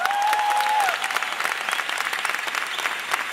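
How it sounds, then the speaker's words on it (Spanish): Audience applause at the Benidorm Salsa Congress: dense, steady clapping from a large crowd, opened by a single high sustained whoop or whistle during the first second, then continuing evenly to the end. "para el que pido un fuerte aplauso, por favor."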